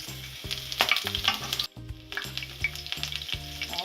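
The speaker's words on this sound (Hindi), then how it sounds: "इसके साथ ही हम डालेंगे कटी हुई हरी मिर्च" Cinnamon stick, cloves and chopped green chilies fry in hot oil for a palak sepu vadi dish, a steady crackling sizzle running throughout with a brief dip midway, no talk.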